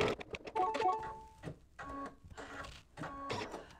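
An embroidery machine stitches a mug rug design, working with white thread, in short bursts of rapid whirring and tonal motor whine separated by brief pauses, close and moderately loud, with no speech.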